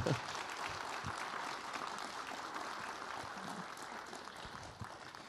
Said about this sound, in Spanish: Un aplauso para los diputados, por favor.